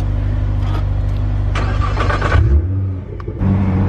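A Nissan GT-R engine cranks and catches, then idles with a steady low rumble and a brief rev, close and loud with no talking over it.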